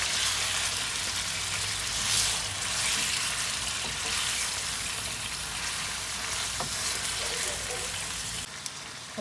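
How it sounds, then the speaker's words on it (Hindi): Mutton pieces frying with ginger and garlic in a pot, a loud dense continuous sizzle and hiss close up for several seconds, ending with a brief drop near the end. "अब हमने गोश्त का कलर चेंज होने तक इसे फ्राई करना है।"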